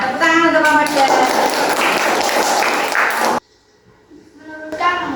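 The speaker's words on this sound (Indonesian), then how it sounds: "Tepuk tangan untuk kelompok" Classroom applause for a student group in a school lesson, a dense burst of clapping with children's voices mixed in, cutting off abruptly, then quiet before talking resumes.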